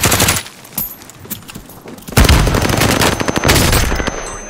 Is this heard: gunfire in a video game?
yes